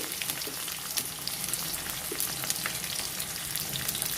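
Chopped onions frying in a pan for chicken curry, a steady dense sizzle that holds at an even level throughout with no talk.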